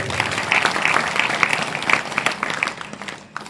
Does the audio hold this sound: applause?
yes